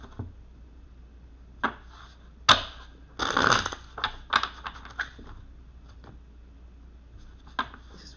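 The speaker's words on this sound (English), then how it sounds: "you can see me shuffling the cards" Tarot cards are handled and shuffled in short crisp riffles and taps, close and quiet, with brief pauses between bursts.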